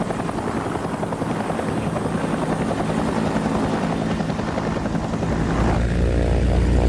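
A Huey military helicopter flies overhead with a steady, loud rotor chop and engine drone that grows slightly louder toward the end.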